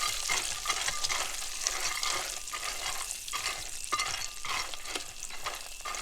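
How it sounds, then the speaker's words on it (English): Around 2 pounds of peanuts, some still in their hulls, roasting in hot oil in a pan for homemade satay sauce, giving a steady close sizzle with recurring scrapes and stirring strokes throughout. "once the oil is hot, we'll just throw in the peanuts"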